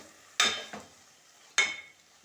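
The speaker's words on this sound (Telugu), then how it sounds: "చికెన్ వేసి కలుపుకొని కొంచెం చికెన్ నూనెలో గోలేదాకా" Chicken stirred and fried in oil, two sharp scraping stirs in the pan, each followed by a decaying sizzle, close and fairly quiet otherwise.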